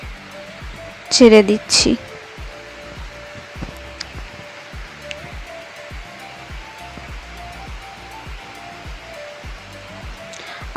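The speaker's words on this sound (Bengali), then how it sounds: "চিনি আর জল ভালো করে ফুটে গেছে" Sugar and water syrup boils in a pan, giving off a soft, steady bubbling hiss with small ticking pops; a voice speaks briefly near the start.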